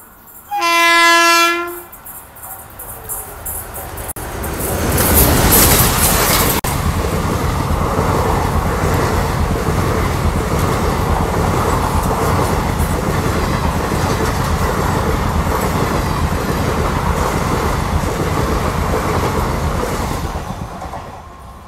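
Murdeshwar SF Express sounds a loud horn blast, then roars past a stationary goods train hauled by a WAG9 engine, with a sustained rushing, clattering wheel roar that lasts to the end.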